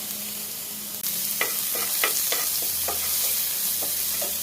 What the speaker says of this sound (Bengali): এখানে ক্যাপসিকামগুলোকে আমরা হালকা করে সটে করে নেব